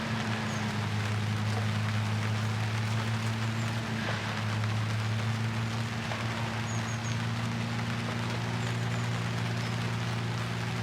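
Rain falling steadily outdoors, a soft, even hiss of drops that holds unbroken throughout, with a low steady hum beneath and no voices.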